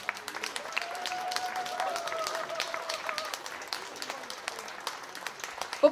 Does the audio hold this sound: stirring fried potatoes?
no